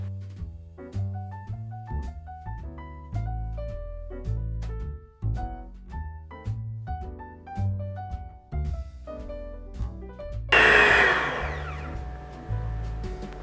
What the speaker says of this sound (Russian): Сироп отправляю и буду взбивать миксером, пока масса не посветлеет и не увеличится в объеме